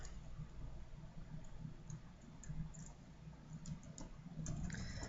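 Soft, rapid clicking of keys on a computer keyboard in a classroom setting, faint and continuous with small irregular bursts, no talk over it.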